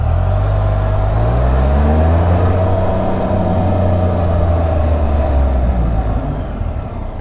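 A motorcycle engine pulls steadily on a test ride, a loud close drone with a low rising pitch as it accelerates, then eases off slightly near the end.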